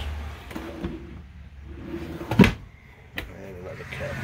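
A cabinet door in a 2020 Coachmen Expedition 192FQS camper clacks open and thumps shut in a few quick knocks against faint room noise, with brief talking nearby.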